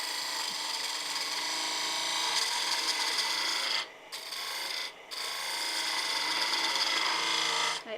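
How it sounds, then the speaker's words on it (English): Spindle gouge cutting a spinning wooden toadstool house piece on a lathe, a steady close rasping scrape held for several seconds with two brief breaks where the tool lifts off. "we'll go in there with a spindle gouge now, just so that we get a little bit more of a refined cut"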